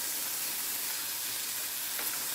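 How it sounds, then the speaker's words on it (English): Bell pepper sautéing in a pan while being stirred lightly, with black pepper added, gives a steady soft sizzle and hiss throughout, fairly quiet and close, with no talking. "I'll just stir this lightly"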